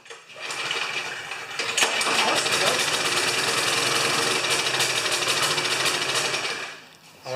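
A 4HP Briggs & Stratton lawn mower engine catches after clean gas and a few squirts of fuel, then runs steadily with a loud, rapid rattling putter for several seconds before it cuts back near the end.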